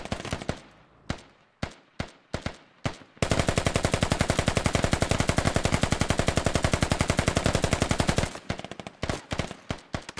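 A SAW light machine gun in the video game Squad rips off a long sustained burst, preceded and followed by scattered single shots, loud and close with sharp rhythmic reports.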